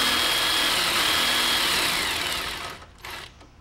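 A power tool fitted with a T40 Torx bit spins a drop link bolt loose on a Mercedes E63 W212 during a lowering-spring install, a steady, loud high whine for over two seconds before winding down and stopping, followed by a brief second burst.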